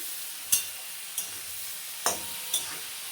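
A pan of pointed gourd and pea dal with cumin powder and a little milk is stirred with a spatula, giving four sharp scrapes against the metal over a quiet background simmer.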